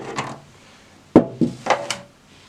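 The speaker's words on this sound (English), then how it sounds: "open the typewriter" A HEMA 44K typewriter is opened from its case, with a couple of soft handling rustles followed by a few sharp close knocks and clacks from the latches and lid.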